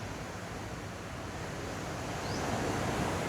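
Ocean waves wash steadily onto the shore beside an outdoor yoga session, a dense, continuous surf roar with a soft wind rush and no talking.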